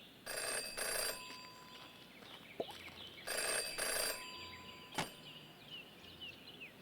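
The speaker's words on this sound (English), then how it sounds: "In her short time as a detective, Jenny had learned never to ignore a ringing phone." A telephone rings in the detective adventure game Jenny LeClue, two quiet bursts of bright electronic trilling separated by a pause, with faint background ambience and small game sound effects between them.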